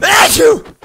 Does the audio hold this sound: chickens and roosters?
no